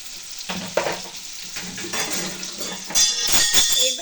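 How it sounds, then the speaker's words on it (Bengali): Potatoes for a fish curry are sautéed in a pan with crackling sizzle and intermittent scraping stirs, and the frying swells louder and brighter toward the end. "একবারে কষিয়ে নিয়ে তারপরে জল দেব"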